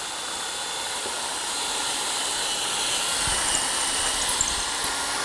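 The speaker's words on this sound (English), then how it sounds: "Drill that hole." A 6-inch aircraft drill bores cabinet hardware holes through a drilling jig, giving a steady high whine that builds slightly and runs continuously for several seconds, close up with no talking.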